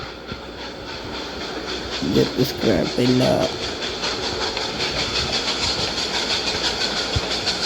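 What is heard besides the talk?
train passing in Roblox video game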